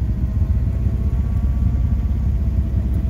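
A Kawasaki Teryx KRX 1000 side-by-side engine braking down a steep hill, giving a steady low rumble with no rev changes, continuous and close throughout.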